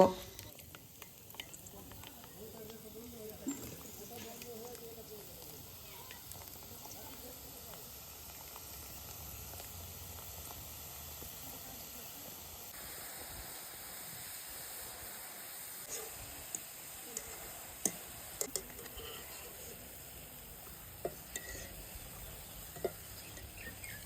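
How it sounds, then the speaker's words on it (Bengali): Besan batter dripped through a slotted ladle into warm oil in a kadai to fry boondi for mango boondi, giving a faint continuous hiss and bubbling with a few small clinks, distant and low in level, with a low background hum. "বেসনটা একটা ছাকনার মধ্যে দিয়ে বোদেগুলো ভেজে নেব"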